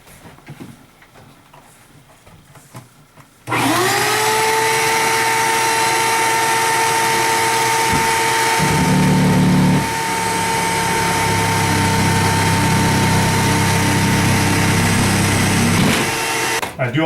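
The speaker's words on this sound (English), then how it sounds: "Put on the vacuum, grab the saw. It's a battery operated saw." Battery-operated saw cutting through drywall while a vacuum runs alongside to catch the dust, a loud steady whine starting a few seconds in with the cutting noise rising over it midway.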